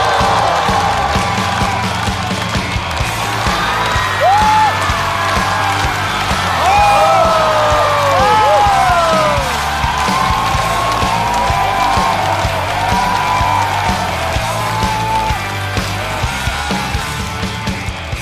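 A stand-up comedy show audience cheers and applauds as a comedian is welcomed to the stage, a loud, steady roar of clapping with whoops and shouts throughout.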